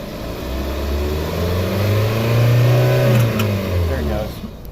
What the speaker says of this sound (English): it makes this like weird popping noise too back through the exhaust when you do that sometimes